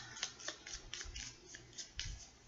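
Tarot cards being shuffled by hand, a quick run of soft riffling and flicking card sounds in irregular bursts, close and faint, with no talking.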